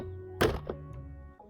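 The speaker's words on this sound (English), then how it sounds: "Click the door panel back in." A car door trim panel snaps back onto the door with one sharp thunk, close and fairly loud, followed by a softer knock and low background hum.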